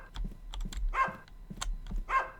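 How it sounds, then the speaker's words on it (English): A dog barks in the horror video game Bark, with two loud, sharp barks about a second apart over soft clicking and tapping, like keyboard typing. "Oh, my dog's barking now."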